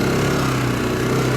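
A CFMoto CF 500 quad bike that has overheated drones with a steady, close engine hum while driving along an off-road route, holding an even pitch throughout.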